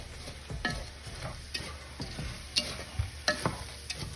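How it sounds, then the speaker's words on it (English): A spoon stirs breadcrumbs and seasoning into shrimp and vegetables frying in a pan, with irregular scraping strokes over a constant close sizzle. "Stir that in."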